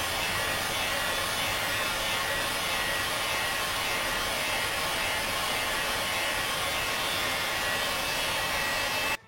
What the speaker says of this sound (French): C'est le décapeur thermique, forcément.